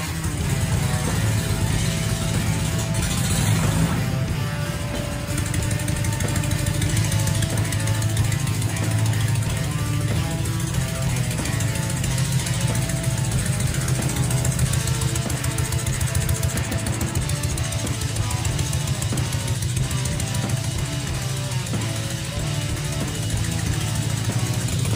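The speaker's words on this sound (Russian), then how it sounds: "Прогретый работает отлично, но холодный погазовать как карбюратор не получится." Warmed-up Soviet K-750 boxer-twin motorcycle engine converted to fuel injection runs steadily and loudly close by, a continuous rough drone with no talking.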